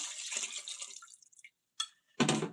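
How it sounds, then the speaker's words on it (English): Liquid poured into a mix while making coquito trickles and splashes close up, then tapers off, followed by a couple of brief sharp clinks and splashes, with no talking. "I'm going to pour this in here"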